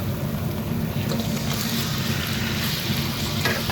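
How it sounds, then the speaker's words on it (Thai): Seasoning paste stir-frying in a pan over low to medium heat, giving a steady close sizzle with faint stirring scrapes and no voices. "ผัดไปจนกระทั่งสุกและหอมนะครับ"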